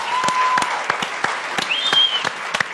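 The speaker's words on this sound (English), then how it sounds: "That's a round of applause." A studio audience breaks into steady applause, a dense wash of clapping hands that holds for a few seconds at strong, even volume.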